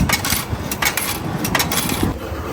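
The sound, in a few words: coins dropping from a vending machine after buying Pepsi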